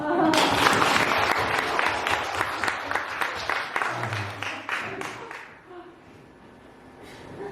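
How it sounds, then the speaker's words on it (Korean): A church congregation claps during a Sunday worship service, a loud burst of many hands that thins and fades away after a few seconds, leaving a quiet room. "박수 한번 칩시다"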